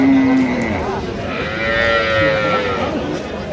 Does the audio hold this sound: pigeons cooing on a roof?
no